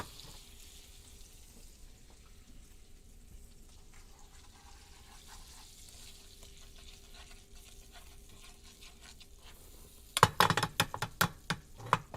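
Butter and brown sugar cooking down toward a caramel in a pan give a faint, steady low sizzle through most of the stretch, then a louder run of sharp clinks and scrapes near the end, likely from stirring.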